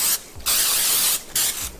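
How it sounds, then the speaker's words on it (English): Pam cooking spray hisses onto an open waffle maker in two short bursts, close and loud, separated by a brief pause with faint clicks of the can between. "We're gonna go ahead and get our Pam spray."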